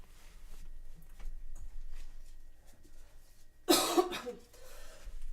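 A single harsh cough bursts out near the end, loud and close after a stretch of quiet room noise.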